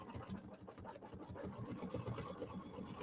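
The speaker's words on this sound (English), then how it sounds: "So now it's going to do the satin stitching." An embroidery machine runs steady satin stitching for a quilted table topper, its fast, even needle chatter forming a continuous mechanical hum close by, alone without talk.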